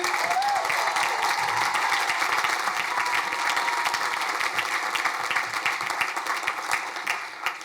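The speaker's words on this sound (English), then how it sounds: "Can we get a round of applause for all the single parents out there?" A commencement crowd at Queensborough Community College applauds single parents, with dense, steady clapping and cheering that holds throughout at an even level.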